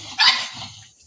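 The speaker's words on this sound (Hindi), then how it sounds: "वो आई गुस्से में भौंकने के लिए।" One sharp, loud dog bark rings out close by, then trails off into quiet.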